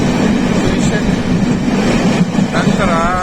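Loud, steady rumble of a train running through a tunnel about 12 km long near Banihal on the Kashmir rail line, with a constant roar and faint squeals near the end.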